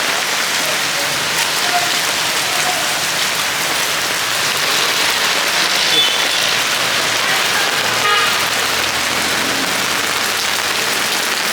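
Heavy rain pours steadily in Manila during a flood, a loud, dense hiss on surfaces with faint traffic and a distant horn beneath.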